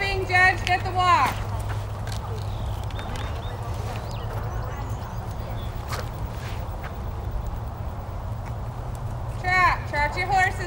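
Horses walk during judging at a horse show, hooves clip-clopping faintly under a continuous low hum, with an announcer's amplified voice at the start and end.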